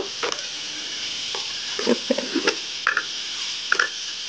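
Liver (kaleja) and potato curry frying in a pan, a steady sizzle broken by intermittent scraping stirring strokes, close and moderately loud.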